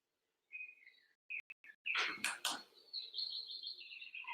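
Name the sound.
birdsong sound setting on a diffuser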